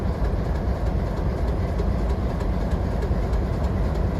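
Diesel train at the Steamtown yard in Scranton, with ex-BC Rail C630M locomotive number 3000 leading: a loud, steady rumble of engine and rolling cars, close and continuous with no talk.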